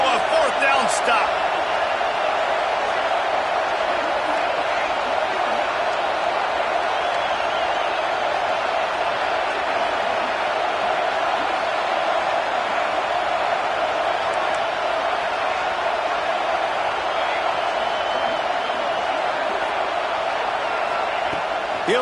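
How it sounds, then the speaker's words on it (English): A football stadium crowd at an NCAA game roaring for a 4th down stop, a sustained dense wall of cheering and noise that stays loud and steady, with a commentator talking over it. "This crowd busting the decibel meter and trying to will a 4th down stop."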